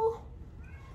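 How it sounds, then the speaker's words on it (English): A pet cat meows briefly and faintly in the background of a quiet indoor room, a short call at the very start that fades into low room noise. "my cat is meowing in the background"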